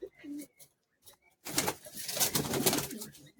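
Pigeons at a pigeon club competition ground, with soft cooing and bird calls, faint at first and then a busier, louder stretch of overlapping calls and rustling in the second half.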